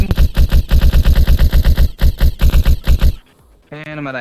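A virtual gun fires in rapid automatic bursts in the Neos VR video game, loud and evenly paced shots for about three seconds, then a pause and a brief electronic tone.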